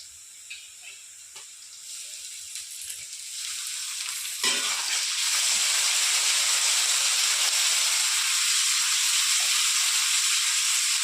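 Ginger and garlic paste hits fried onions in a pan, a quiet crackle building into a loud, steady sizzle and hiss that keeps going without any talking.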